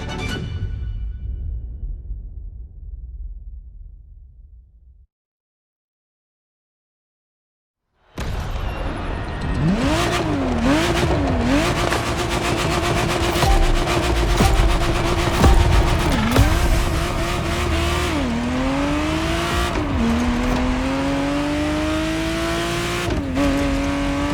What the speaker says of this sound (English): Ferrari Testarossa was quite the celebrity in her time.